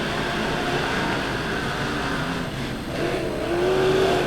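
Dirt track race cars pack the track at Lebanon Midway Speedway, a dense, sustained engine roar that swells and rises near the end, loud and continuous with no voices over it.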